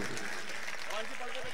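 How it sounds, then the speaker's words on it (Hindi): At an all-India kavi sammelan and mushaira poetry recital, a crowd's brief, moderately loud clapping runs beneath someone speaking into a microphone. "जरा तालियां बजा दीजिए"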